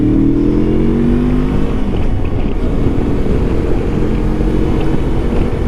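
A Lifan KPT 400 motorcycle engine with a swapped front sprocket runs under load at speed. A loud, continuous drone sits under heavy wind rush, and its pitch climbs at the start before holding steady.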